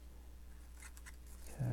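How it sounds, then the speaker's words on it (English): Scissors snipping through model plane covering material on a laser-cut plane, a few quick crisp cuts close by, faint against a quiet room hum. "if your scissors are in good shape, you almost don't even need to clear them in between cuts, because it'll cut right through the stuff"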